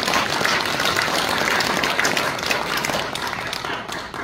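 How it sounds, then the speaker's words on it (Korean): A church congregation at a Korean Presbyterian prayer meeting claps in a dense, continuous burst of applause close by, tapering slightly near the end. "잘 썼으면 박수 한번 치고"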